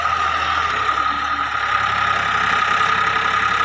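A tractor engine running steadily, a loud, close mechanical drone with a low rumbling undertone that holds constant throughout, no speech.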